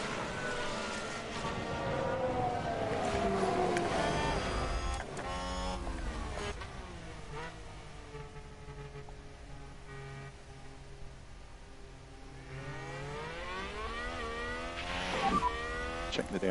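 Formula 1 cars racing at Spa in Belgium in F1 Manager 22, engines whining and sweeping up and down in pitch as cars pass, loud and continuous throughout with layered overlapping roars and no talking.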